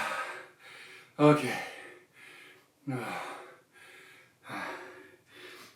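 Heavy breathing after a workout exercise: deep, audible breaths come in regular bursts roughly every one to one and a half seconds, close to the mic, with one sharp gasping inhale. A voice briefly says a word.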